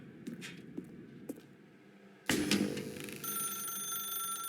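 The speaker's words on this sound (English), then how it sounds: "Now pick up the phone." A telephone in The Stanley Parable video game rings loudly and persistently in a bright electronic trill, preceded by a few faint knocks and thuds.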